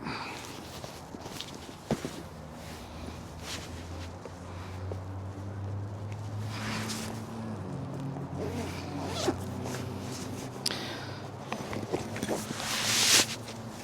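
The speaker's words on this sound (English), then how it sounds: "zip it up." A PGYTECH OneGo S camera bag being zipped shut, with repeated close zipper pulls and light handling rustle, loudest in a long final zip near the end, over a low background hum.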